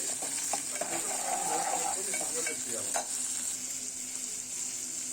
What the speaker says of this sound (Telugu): ఆనియన్ కూడా వేసేసుకొని అంతా ఒకసారి కలుపుకోవాలి. కొంచెం మీడియం ఫ్లేమ్లో పెట్టుకొని కలుపుకోవాలండి.